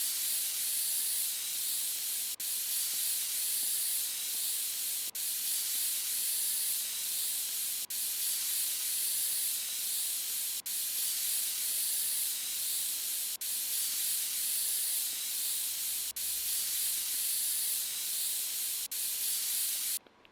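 Compressed air spray blasting dust out of a PC in a PC-building simulator game on PS5, a steady loud continuous hiss running nearly unbroken throughout, with faint regular ticks and no talk.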